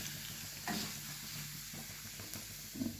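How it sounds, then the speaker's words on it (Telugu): Lemon rice seasoning fries in a hot pan with a steady, faint sizzle and hiss, broken by occasional soft stirring scrapes. "పచ్చి వాసన పోయేదాకా వేయించాలి ఫ్రెండ్స్."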